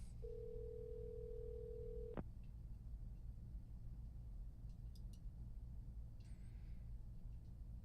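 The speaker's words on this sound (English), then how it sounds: "The dial tone suddenly stops." A steady telephone dial tone in a video game hums for about two seconds, then cuts off abruptly, leaving a faint low background rumble.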